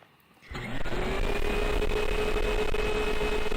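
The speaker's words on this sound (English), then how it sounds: "Ah, that vacuum cleaner, it is awful." Vacuum cleaner in a SpongeBob flash game starts up abruptly after a brief quiet moment, then holds a loud, steady motor whine with a sustained tonal hum until the end.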